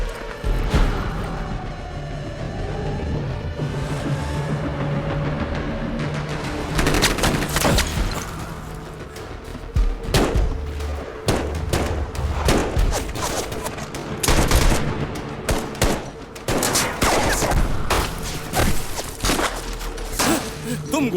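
Gunfire from a war-themed action movie scene: sustained bursts of shots, crashes and booms, dense and loud, with overlapping impacts and a steady background din throughout.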